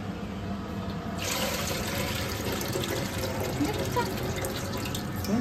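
Water pours over hands, making a steady, close splashing and trickling stream, much like a running tap.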